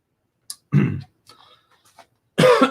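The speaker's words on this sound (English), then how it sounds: "I coughed." A man hosting a live post-game basketball chat coughs close to the microphone: one short, rough burst, then quiet rustling and a second harsher burst near the end.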